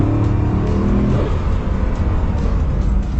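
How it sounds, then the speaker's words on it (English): A sports car sheds speed hard under heavy braking, its engine note dropping and droning loudly up close inside the cabin, with no talking. "So now I will give you a demo about the deceleration power."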